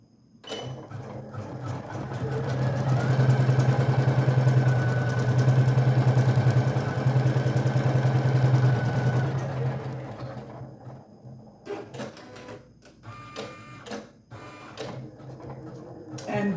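An embroidery machine stitches a heat transfer vinyl appliqué design onto a shirt with a fast, steady mechanical chatter for several seconds, then stops, leaving scattered clicks and handling noises.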